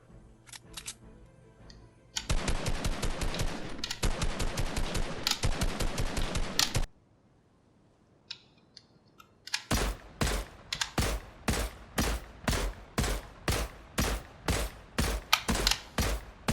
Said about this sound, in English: Now we'll go through the assault rifles, but they're no different than the SMGs either when it comes to adaptive triggers.